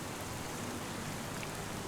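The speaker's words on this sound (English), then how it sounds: "I can't do much while it is raining." Rain falls in a video game as a soft, steady hiss of drops, faint and continuous with no other sounds.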